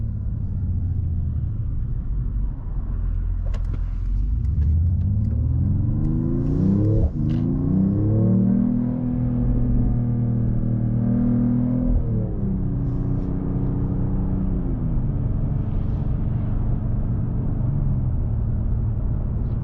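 A 2025 Mercedes-AMG E53 sedan drives hard, its engine rumbling low inside the cabin and rising in pitch through a rev climb, dropping at a gearshift and then climbing again before settling into a steady cruising drone.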